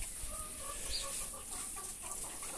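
Chickens cluck faintly on a small family farm in Brazil, with soft, scattered clucks over a constant background hiss.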